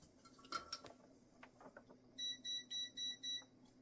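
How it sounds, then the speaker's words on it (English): A multimeter across a workbench room beeps in a series of five even, piercing electronic tones after a few faint clinks nearby, quiet and distant. "there's my multimeter across the room beeping at me"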